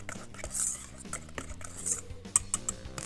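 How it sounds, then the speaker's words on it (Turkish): Batter being whisked in a bowl for a crispy herbed cauliflower dish, with repeated light metallic clinks and scraping strokes in an irregular rhythm, close and fairly quiet, with no talking. "Güzelce çırpıyorum."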